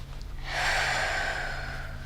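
One slow, deep breath is drawn in and then released as a long, soft, airy exhale, heard close and alone.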